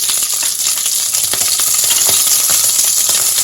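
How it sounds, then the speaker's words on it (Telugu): Green chillies drop into hot oil in a pan while making pudina chutney, giving a loud, steady crackling sizzle with a few sharp pops. "ఇప్పుడు ఆయిల్ వేడెక్కిందండి. ఇందులోకి పచ్చిమిరపకాయలు వేసుకుంటున్నాను"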